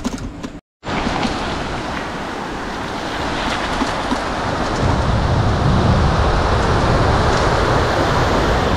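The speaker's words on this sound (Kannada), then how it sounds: "ಇದೇ ವಾಟರ್ ಫಾಲ್ಸ್ ನೀರು." Waterfall water rushes loudly and continuously, a broad, roaring wash close by, briefly cut off near the start and building in weight as the flow grows heavier.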